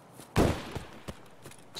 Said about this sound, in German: Ein Schuss, warst du das?